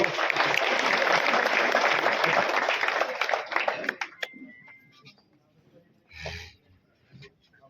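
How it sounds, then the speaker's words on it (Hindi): A village crowd in Haryana claps for the sarpanch, a dense burst of applause that fades out after a few seconds, leaving quiet with a few scattered sounds. "सारे ताली मारो"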